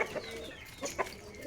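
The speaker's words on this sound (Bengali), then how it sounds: "আমার টাইগার মুরগি" A Pakistani tiger breed hen on a pigeon and hen farm gives a few soft, close clucks, two short bursts standing out over a quiet, steady background.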